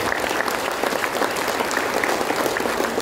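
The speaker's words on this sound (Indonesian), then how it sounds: "Ya, tepuk tangannya ikhlas semuanya." Dense, sustained audience applause at a national literacy tour event in Singkawang, many hands clapping evenly and loudly for the full stretch, with a faint murmur of voices underneath.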